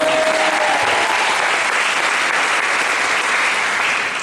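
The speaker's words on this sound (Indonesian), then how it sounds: "Tepuk tangan bagi Tuhan." Loud, dense applause fills a church worship service, a large congregation clapping steadily as one continuous wash of sound for the whole stretch.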